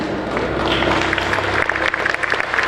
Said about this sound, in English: Please put your hands together in heartfelt applause